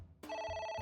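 An electronic telephone ringtone in the video game AI: The Somnium Files, a steady sustained ring that starts abruptly after a brief quiet moment and carries on loud and close.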